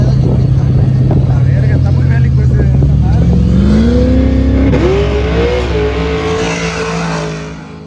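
A 1000-horsepower Jeep engine roars and revs loudly at a drag racing event, its pitch climbing steadily, with voices and crowd noise mixed in around it.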